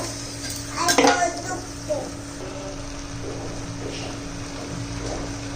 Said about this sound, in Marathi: तेलात चांगला परतून घेऊया